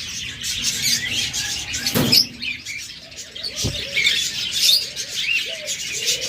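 Cockatiels kept for sale chirp and whistle in bursts, with several birds calling over each other close by and a couple of sharp knocks.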